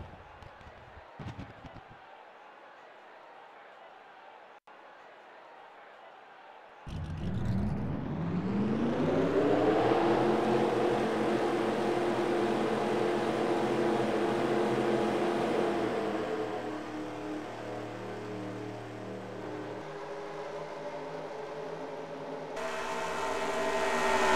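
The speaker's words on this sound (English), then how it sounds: "Drivers, start your engines!" A field of forty race cars fires up for the Daytona 500 at Daytona, engines roaring to life together after a quiet lead-in, then holding a loud, sustained, layered rumble that eases slightly before a final swell.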